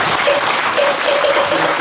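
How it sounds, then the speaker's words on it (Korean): Dense, loud applause from a gathered audience at a Buddhist dharma talk, an even continuous roar of many hands clapping without a break. "법장 스님께 다시 한번 큰 박수를"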